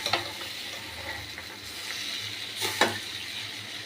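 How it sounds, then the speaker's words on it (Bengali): Potato and pointed gourd pieces with chickpeas fry in spices, a steady close sizzle broken by a few sharp stirring scrapes of a spoon against the pan, no talk. "দিয়ে ভালো করে মশলার সাথে এটাকে কষাবো।"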